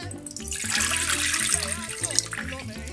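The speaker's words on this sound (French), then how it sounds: "on va commencer tout de suite par mettre l'eau" About 20 centilitres of water pour into a pot for Martinique spiced chocolate. A continuous close splashing stream gurgles and shifts in pitch as the pot fills, with no voices.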